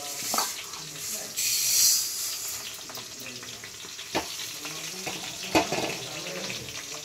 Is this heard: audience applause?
no